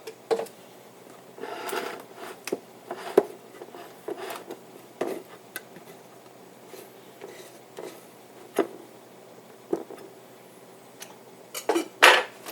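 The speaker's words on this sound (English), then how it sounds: "spread the mayonnaise onto the tortilla" A knife clicks and scrapes against a plate while spreading mayonnaise across a tortilla, producing scattered soft taps and clinks with short quiet gaps between them.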